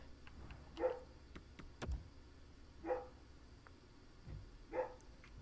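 Dog barking indoors, three short, faint barks spaced about two seconds apart over a low background hum, with a couple of soft thumps in between.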